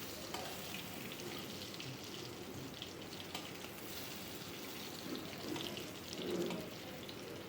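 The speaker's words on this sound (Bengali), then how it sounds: "এখানে দেখো একদম লাল লাল করে ভেজে নেওয়া হচ্ছে" Eggplant frying in hilsa fish oil, a steady wash of sizzling and bubbling that holds level throughout, with a slight swell near the end, no voices.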